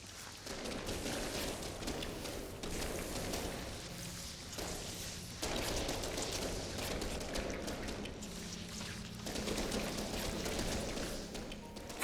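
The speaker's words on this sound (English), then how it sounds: "I did put down an inordinate amount of fireworks" Dense, continuous fireworks in the space game No Man's Sky, a steady crackling and thumping barrage of overlapping bursts that goes on without pause, fairly faint and with no talking.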